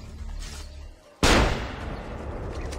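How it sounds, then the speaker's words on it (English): A single sharp report from Ezio's hidden gun in Assassin's Creed Revelations cracks out after a brief lull, followed by a fading echoing tail and background game ambience. "Let's use my hidden gun."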